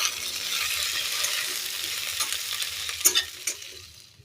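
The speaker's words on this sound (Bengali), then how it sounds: "ভেন্ডিগুলোকে দিয়েও ভালোভাবে নাড়াচাড়া করে" Cut okra stir-frying in a pan for bhindi masala, a continuous close sizzle with stirring scrapes, a few louder clanks near the end before the sizzle fades, no talk.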